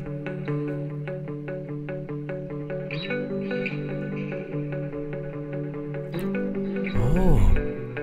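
Electric guitar played through a Valhalla Vintage Verb reverb with the pre-delay raised, a sustained chordal line whose reverb tail enters after a short gap and blooms, swelling into a louder smeared flourish near the end.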